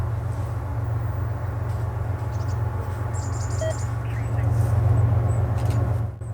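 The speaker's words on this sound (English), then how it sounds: "a coal train, which is what you would normally see on the Canadian Pacific Windermere Subdivision" Canadian Pacific coal train led by a single GEVO locomotive on the Windermere Subdivision, a steady low rumble of engine and rolling cars with faint squeals and chirps above, swelling slightly louder near the end.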